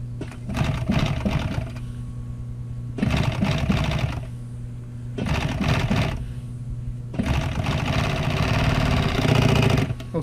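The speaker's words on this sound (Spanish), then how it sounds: "I'm going to fold it and sew it on that line." A sewing machine stitches upholstery fabric for a Volkswagen interior door panel, running in several loud bursts of rapid, steady mechanical chatter separated by short pauses, with no voices.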